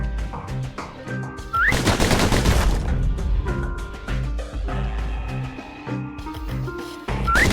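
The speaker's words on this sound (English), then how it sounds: "The slingers like to edge each other out using customized pistols." Customized pistols fire in a Bastion video game shootout. Rapid bursts of gunfire land over game music, with dense volleys in the middle.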